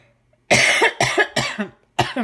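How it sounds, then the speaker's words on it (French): Four harsh coughs in a quick burst, then a short pause and a fifth cough, close and loud with no talking. "Je tousse encore un peu."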